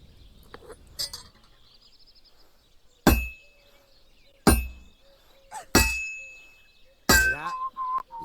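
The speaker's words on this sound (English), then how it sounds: "Besides the sparks, you can tell a good strike by the sound it makes." In Kingdom Come: Deliverance II, sharp metallic clangs of a hammer on heated metal on an anvil, four strong ringing strikes spaced a second or more apart, with a lighter tap early on and faint bright tones between.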